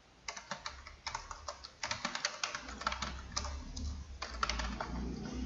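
Names being entered on a computer keyboard for a Word 2019 mail merge, with quick bursts of close key clicks that come in uneven runs and pauses over a low background hum.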